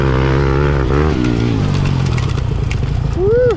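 A Stark Varg electric dirt bike being ridden, with a loud, close whining motor note that rises and falls under a rider's talk and a brief exclamation.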